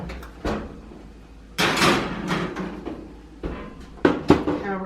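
An oven door swings open and shut as cookies go in, giving a run of close clunks, knocks and tray clatter spaced across the moment.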